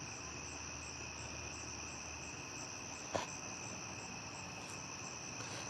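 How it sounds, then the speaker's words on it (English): Crickets chirp in a steady, continuous trill at moderate volume outdoors, with a single short knock partway through. "It's quite noisy out here tonight with frogs or crickets and everything."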